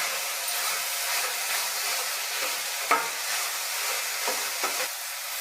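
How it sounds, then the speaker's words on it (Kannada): Greens, amaranth leaves, cook in a pan under a closed lid, giving a steady close hiss and sizzle with a few faint clicks, no voices over it. "ಈ ಥರ ಮುಚ್ಚಳ ಕ್ಲೋಸ್ ಮಾಡಿ ಬೇಯಿಸ್ಕೊಳ್ಳೋದ್ರಿಂದ ಸೊಪ್ಪು ಬೇಗ ಬೇಯುತ್ತೆ."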